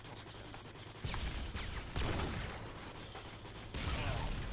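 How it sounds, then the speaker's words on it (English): Video game gunfire crackles in dense bursts of rapid shots, loud and close, with heavier volleys near the start and the end. "Stop shooting at me!"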